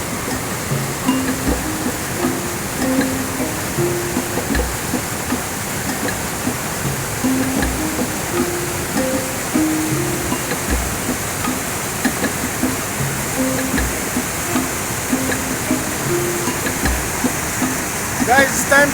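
A small waterfall on a village river pours in a steady, close rushing wash that runs unbroken throughout, with voices talking faintly underneath.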